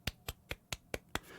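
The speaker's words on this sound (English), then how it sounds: "Golf clap." Six light, sharp claps in an even, quick rhythm, a quiet golf clap at close range with no talking.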